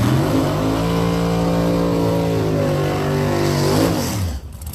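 A drag racing car at the Lights Out X event roars down the strip, its loud engine note climbing steadily under hard acceleration, then swooping down and fading at the end of the pass.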